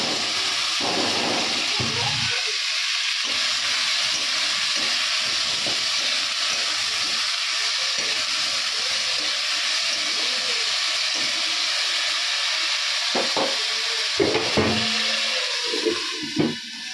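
Panch phoron spices and dried chillies frying in hot oil, a constant hissing sizzle with light crackles and a few knocks toward the end.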